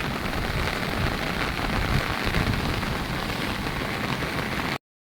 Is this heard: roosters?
no